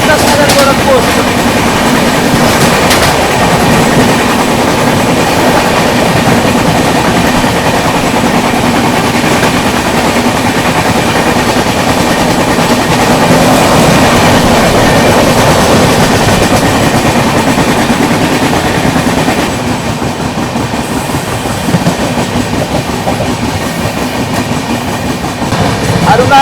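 Izzatnagar Gorakhpur Express overtaking on a parallel track beside the moving Arunachal AC Superfast: sustained loud rumble and clattering wheel beats, easing slightly near the end, heard from aboard the train with faint voices underneath.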